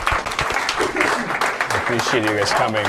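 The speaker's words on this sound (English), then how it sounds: "Clap it up for the group." Comedy club audience at a stand-up set applauds in a steady wash of claps beneath a comedian's speech, which dominates the clip.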